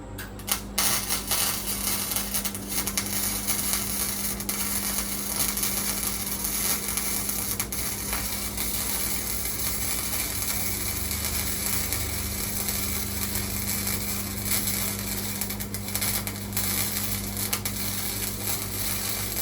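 Metal being welded: a steady, continuous crackling hiss with a low electrical hum underneath, holding at an even loudness for nearly twenty seconds with no talking.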